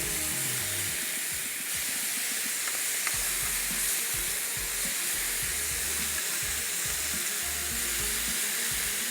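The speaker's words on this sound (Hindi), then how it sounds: "हमेशा मैं ग्रिल जब भी कर रहा होता हूँ हमेशा बताता हूँ कि तेज़ आंच के ऊपर आपने इसको ग्रिल करना है" Chicken grilling over a high flame for a panini, giving a steady, loud sizzle and hiss that runs unbroken throughout with no talking.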